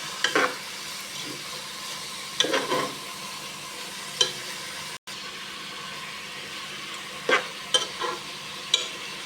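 Mung beans and pork sautéed in a pan and stirred, a low steady sizzle with occasional scraping stirs of the utensil at irregular intervals, close and moderate in level, no voices.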